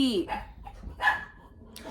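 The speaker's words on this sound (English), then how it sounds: "my dog's losing the minds again" A dog barks a few times nearby, sharp yelps with a whiny edge, partly overlapping a person talking.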